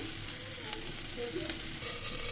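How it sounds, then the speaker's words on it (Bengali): Cauliflower frying in oil in a pan, a close, steady sizzle that stays constant throughout, with a few light clicks of a utensil. "ফুলকপিগুলোকে আমি ভেজে নিচ্ছি"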